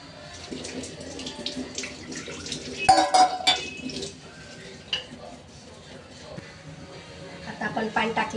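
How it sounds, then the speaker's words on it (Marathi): Strained water poured into a simmering crab gravy, heard as uneven splashing and gurgling with intermittent clinks of utensils against the pot. "आता हे पाणी आपण टाकायचं"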